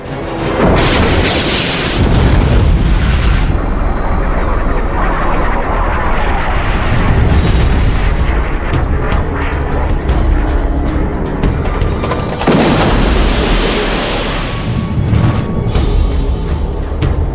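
Missile launched from a fighter jet during an aerial dogfight with a MiG, heard as a loud, sustained roar of jet and rocket noise with two strong booming surges near the start and again around the middle.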